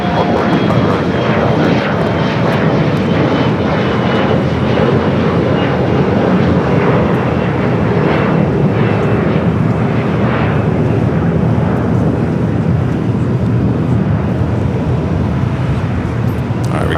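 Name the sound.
airliner to Vancouver taking off down runway 25 right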